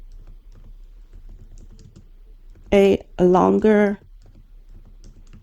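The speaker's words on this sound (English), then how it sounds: "Got to make sure you're typing in the box." Soft, steady keyboard clicking runs throughout at a light, even pace, interrupted midway by a short spoken phrase before the typing continues.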